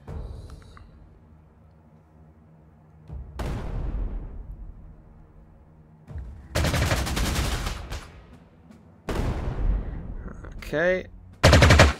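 Artillery bombardment and aircraft strafing in the Panzer Corps 2 strategy game: several loud bursts of gunfire and explosions, one short and then two long ones, separated by quieter gaps. A brief spoken word comes in between.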